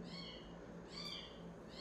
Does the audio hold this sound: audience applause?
no